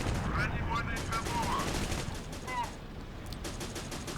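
Tank cannon fire and impacts sound in a video game as shots are aimed at an enemy turret, with sharp bursts and rumbling blasts layered over steady engine noise.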